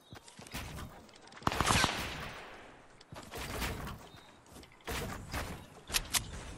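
Video game gunfire arrives in loud, irregular bursts of crackling shots with brief pauses between volleys, fairly close, and no voices.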